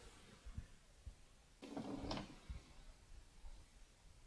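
Household drawers opened and closed during a search, with soft knocks followed by a longer sliding scrape and a couple of clunks, fairly quiet and close, no talk.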